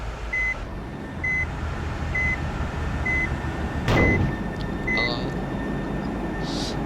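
A bus in a simulator game backs up in reverse gear, steady evenly spaced reversing beeps sounding over a low engine rumble, with a brief whoosh partway through.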